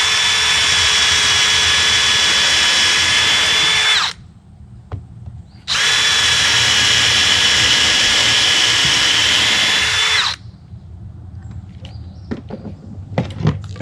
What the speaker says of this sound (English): I'm going to drill a couple holes.